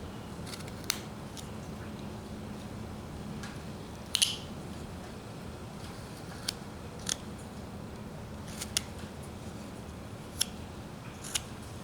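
A knife cutting into a wooden roughout, sparse sharp little snicks and clicks spaced several seconds apart over a steady quiet background hiss, close but soft.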